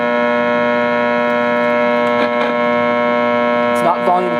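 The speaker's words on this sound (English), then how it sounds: "It is a foghorn." A Lloyds J265 clock radio alarm blares a steady, droning foghorn-like tone that does not change in volume, holding unbroken throughout with brief clicks of handling partway through.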